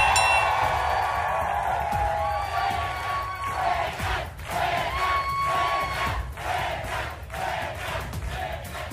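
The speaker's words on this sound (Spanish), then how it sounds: "Recibamos con un fuerte aplauso a Armando, el Tuercas Hernández." A crowd at a staged fight cheers and shouts loudly as a fighter is introduced, a dense, steady roar of voices throughout with swelling whoops and yells.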